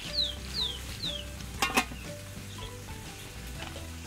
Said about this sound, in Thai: หลังจากพึ่งจนเสด็จน้ำนะครับก็มาต้มนะครับพี่น้อง